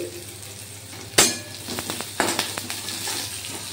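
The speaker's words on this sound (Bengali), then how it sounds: "পেঁয়াজের কুচিটা ভালো করে ভেজে নিচ্ছি" Chopped onions fry in a pan with a steady low sizzle, broken by a sharp utensil clank and several lighter scraping and tapping stirs against the metal.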